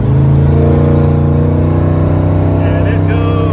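A 1964 Chevrolet Impala two-door hardtop with a 468 big-block V8 accelerates hard, a loud, steady low rumble of engine harmonics that rises slightly in pitch, heard from inside the car with passing traffic noise toward the end.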